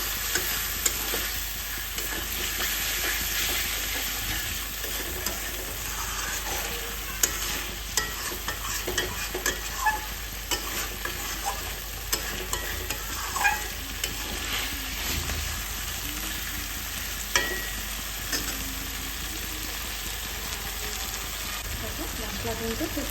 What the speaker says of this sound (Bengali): এই কারণে সামান্য জল দিয়ে আমি আবারও একটু কষিয়ে নিই।